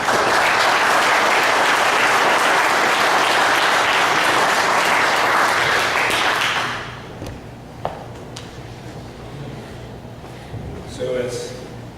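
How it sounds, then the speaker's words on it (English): Audience members at a general meeting give a speaker a round of applause, thick and loud for about six seconds before fading out. A few scattered claps and some low room noise follow. "A round of applause to Baker."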